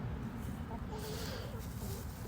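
Hens clucking faintly in a backyard farm flock, soft and low-level beneath a steady noisy background.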